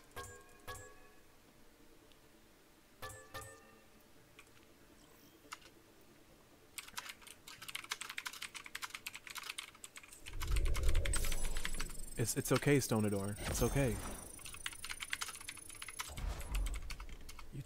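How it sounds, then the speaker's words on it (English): Loud computer keyboard clatter: scattered key clicks at first, then rapid, continuous hammering on the keys, with someone talking briefly and bursts of game sound mixed in. "You typing away like crazy"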